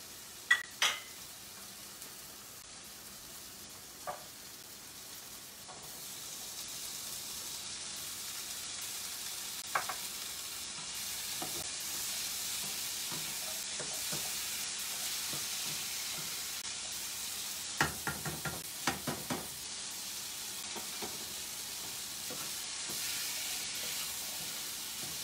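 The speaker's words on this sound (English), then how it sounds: "Chickpeas, you have to mix it nicely with" Chickpeas sizzle in a pan of spiced curry with a soft, constant frying hiss, broken by occasional scrapes and clinks of a spoon stirring against the pan, close and fairly quiet with no talking.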